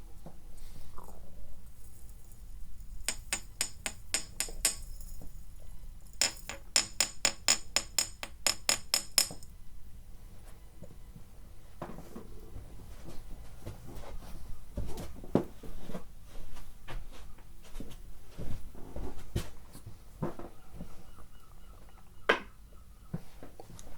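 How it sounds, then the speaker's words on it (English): A dried mushroom mixture is ground in a bowl during an ASMR alchemy scene, heard as quick runs of sharp, clinking taps and scrapes, close and quiet with pauses between the bursts. "Then we grind it up until it is a fine dust."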